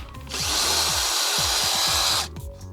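A power drill or impact driver unscrews a fastener from the engine undertray of a Range Rover L322, one loud continuous whir of about two seconds with short clicks before and after, close up and without speech.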